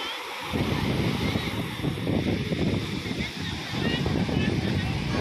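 Surf washes onto Kuta Beach in Bali on a morning walk along the shoreline, a continuous rolling swash mixed with wind buffeting the microphone and faint voices nearby.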